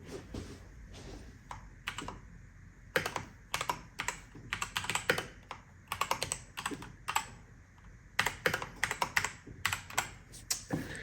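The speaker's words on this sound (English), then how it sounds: "let's try to type with this keyboard and see if it at least still works in OS 9." Typing on a Macally MKey computer keyboard, an Apple keyboard clone, produces close, crisp key clicks in irregular bursts and quick runs, with short pauses between flurries over a quiet background.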